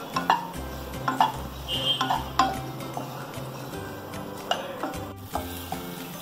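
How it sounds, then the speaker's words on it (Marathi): Khoa being stirred and roasted in a kadhai, with repeated metal spatula scrapes and clinks against the pan in an uneven rhythm, close and moderately loud, alongside a low musical background. "आता खवा परतवून घेते वितळेपर्यंत"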